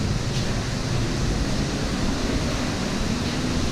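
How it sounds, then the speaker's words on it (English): Steady rain falls at an outdoor water park, a dense even hiss with a low rumble throughout, close and continuous with no voices. "Let's get out of the rain so we don't get wet here at a water park."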